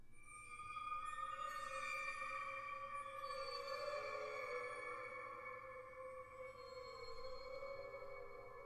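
Faint, drawn-out tonal calls glide and waver over a low steady hum, an eerie sonar-like whale sound with no voices.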